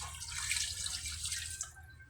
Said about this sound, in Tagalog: Talagyan din natin yan ng tubig